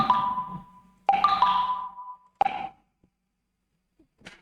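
A short electronic phone tone plays in three bursts separated by pauses, close and fairly loud, then fades to near silence.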